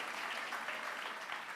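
A church congregation claps together in steady, sustained applause that fills the room, from start to finish.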